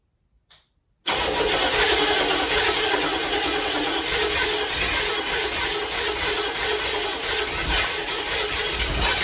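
A 1985 Chevy Suburban's 6.2 Detroit diesel is cold-started in a garage; after a brief quiet click it cranks and fires into a loud, steady, clattering idle that runs for several seconds.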